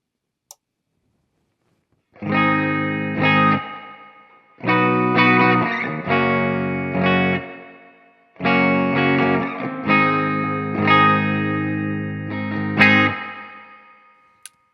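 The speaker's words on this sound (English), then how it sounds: "So next, we're going to do the spring reverb." Electric guitar played through a Strich Triple Vibe multi-effect pedal on its spring reverb setting rings out in three strummed chord bursts, each trailing a splashy, springy reverb tail, with no talking.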